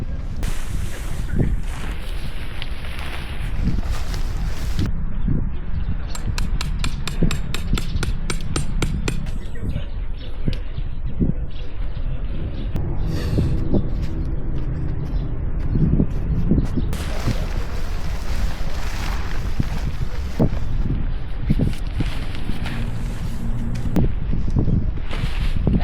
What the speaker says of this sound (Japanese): 風強くなってきた。